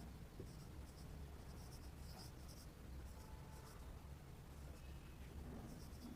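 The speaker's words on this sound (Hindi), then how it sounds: "देखो कुछ मैं यहाँ पे नाम लिख रहा हूँ" Pen or marker scratches faintly and steadily as names such as large cap, mid cap and small cap are written out by hand, a soft continuous scribble under a low background hiss with no talking.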